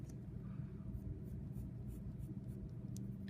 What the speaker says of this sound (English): I might come back with my pencil now and give a nice crisp outline